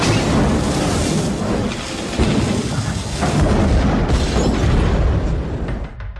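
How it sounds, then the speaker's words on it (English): A 1983 Cadillac Eldorado car bomb erupting into a fireball in a film scene, a loud sustained roaring blast with rumbling low end that swells and persists for several seconds without speech. "and is engulfed in a fireball."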